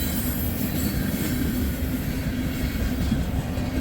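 A freight train hauling tank cars and John Deere equipment rolls steadily past nearby, a loud continuous rumble of wheels on rail with faint rhythmic clacking and metallic squeal, no voices.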